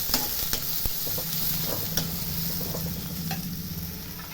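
Green chillies fry in hot oil with onion in a home kitchen, a steady close sizzle broken by the scrape and clink of a spoon stirring the pan.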